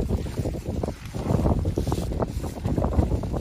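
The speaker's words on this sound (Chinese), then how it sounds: "下午刮大风啊" Strong afternoon wind buffets the microphone at a reservoir fishing spot, producing loud, gusty low rumbles and flapping bursts that surge and ease continuously with no voices.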